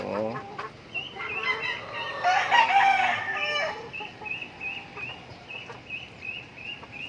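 Hungry pet chickens cluck softly and intermittently nearby while a rooster lets out one loud, drawn-out crow in the middle, with scattered clucks continuing afterward.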